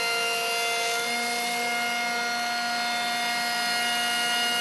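A contour edge banding machine runs steadily at close range, giving a loud, continuous mechanical whine with sustained tonal hums and a broad hiss, and no talk.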